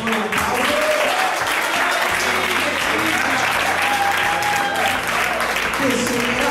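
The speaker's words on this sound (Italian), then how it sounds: "facciamo un applauso" Applause at a poetry slam, steady crowd clapping, loud and sustained, with music or low tones and some voices mixed underneath.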